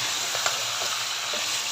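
Onions sizzle steadily in hot oil in a pot on high heat, giving a continuous bright crackle, with a few soft stirring scrapes and no voices.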